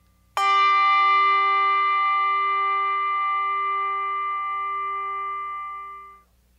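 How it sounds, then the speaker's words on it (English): A single bright, crisp bell strike from a hard plastic clapper rings out clearly and sustains with a long, slowly fading tone, alone in silence. "The hard setting uses a solid plastic surface, producing a brilliant crisp sound."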